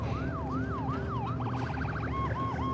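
A wailing ambulance siren in the video game The Last of Us Part 1 sweeps up and down, then switches to a quicker warbling pattern, loud and close against steady background noise.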